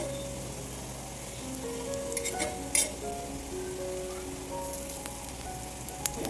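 Slices of neer phanas (breadfruit-type jackfruit) fry in oil with a soft, even, rain-like hiss and crackle, faint and steady, with an occasional light clink of a utensil.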